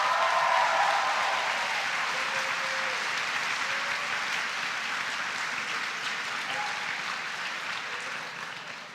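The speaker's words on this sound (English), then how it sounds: "let's give them a round of applause" A crowd at the opening ceremony of a national mock trial championship claps in sustained applause that slowly fades as it goes on.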